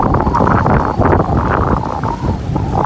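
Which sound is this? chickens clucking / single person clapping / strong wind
strong wind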